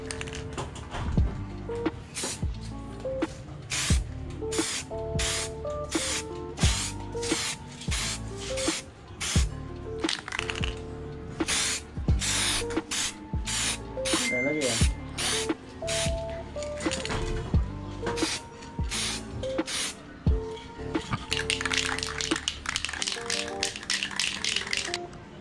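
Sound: spraying Bosny gold spray paint on screw bolts

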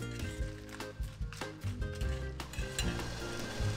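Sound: peppers frying in olive oil

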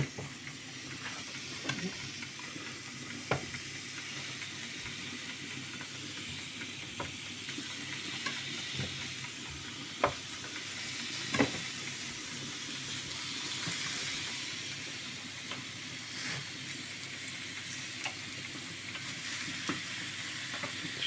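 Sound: vegetables sizzling on a grill

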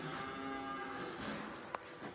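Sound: cow mooing at a farm

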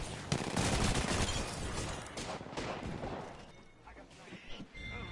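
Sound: gunfire in the video game Apex Legends

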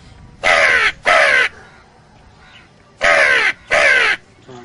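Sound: man imitating a mountain crow cawing

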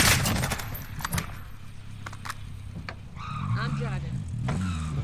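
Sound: car driving in video game Warzone

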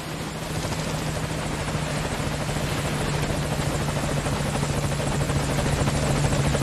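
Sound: helicopter arriving in video game Metal Gear Solid 5

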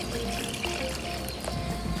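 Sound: water being poured into a pot to boil horse gram

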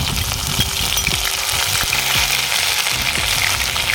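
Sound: cumin and paste sizzling in hot oil

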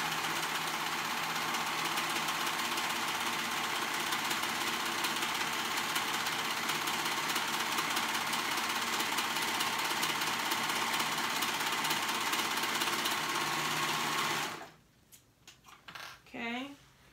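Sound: serger sewing a raw fabric edge

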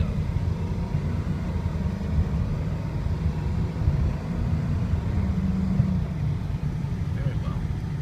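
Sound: 2006 Ford F250 diesel truck driving

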